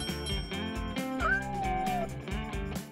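A cartoon kitten stuck up high meows in a rising, drawn-out cry over a bright, bouncy music track that plays throughout.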